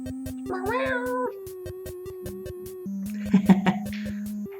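A cat meows a few times, close and clear, over a steady electronic musical drone with rhythmic clicking beats.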